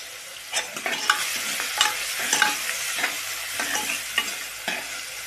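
Tomato sautéed with asafoetida in a pan for a spicy village-style mutton curry, a spoon scraping in repeated stirring strokes over a soft, continuous sizzle, with no talking.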